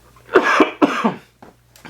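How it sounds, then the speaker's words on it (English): Two close, harsh coughs in quick succession, each a rough burst with a short follow-up, then quiet. "I got a cough."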